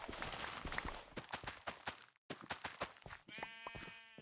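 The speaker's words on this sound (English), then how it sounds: "I just heard a sheep." Sheep bleating in the Minecraft video game, several short wavering bleats close by and fairly quiet, with a brief gap midway and no talk over them.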